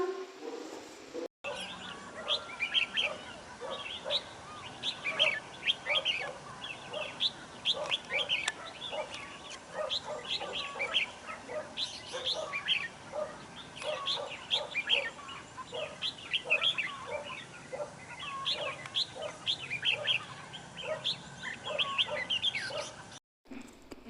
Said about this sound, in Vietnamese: đó chính là tiếng chim hót đấy